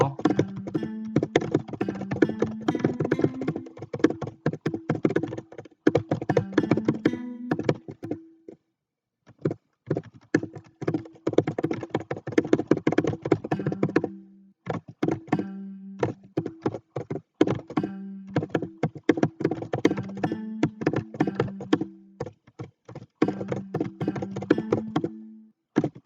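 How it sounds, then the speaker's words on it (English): A computer keyboard clacks steadily through a Tetris game, dense bursts of fast key taps with a few brief pauses, close and fairly loud with no talking. "Apologies for the keyboard clacks as well."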